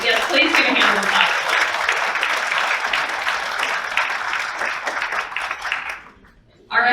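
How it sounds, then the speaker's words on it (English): Loud sustained audience applause at a human trafficking event in Detroit, honoring the local FBI team, with dense clapping and crowd voices filling the room before cutting off abruptly near the end. "please give a hand of applause"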